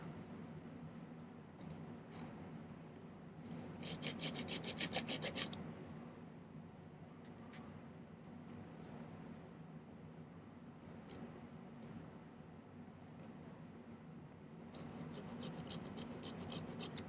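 A notch being cut into silver for a pendant, with quiet rasping strokes that swell into a denser burst midway and again near the end over a faint background.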